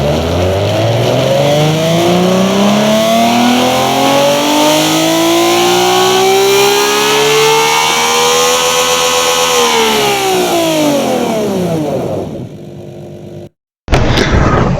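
A 3.6-litre V6 in the game Automation, fitted with massive exhausts, revs in one long loud pull, pitch climbing steadily then falling back off, before cutting out abruptly and briefly roaring again at the end.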